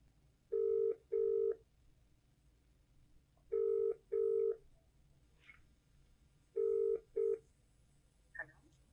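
A telephone call ringing through on the line, with three evenly spaced pairs of electronic ring tones sounding clearly over a quiet background.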